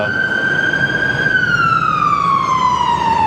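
A police car siren wails close and loud on a street in Malaysia, a single sustained tone sliding slowly downward as the vehicle passes, over steady traffic noise.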